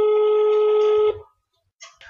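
Telephone tone on a live radio call-in broadcast: one steady electronic tone lasting about a second, then a short quiet gap before faint sound returns.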